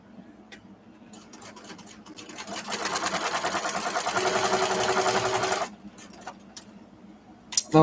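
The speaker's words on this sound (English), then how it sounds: "My sewing machine wants to be" A sewing machine whirs steadily for a few seconds, a dense mechanical buzz that starts and stops, with quieter handling clicks before and after.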